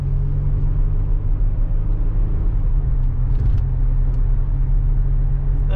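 A 2010 Mercedes GLK350 4Matic SUV accelerating down a ramp at about half pedal, with a steady low engine and road rumble heard from inside the cabin and no talk.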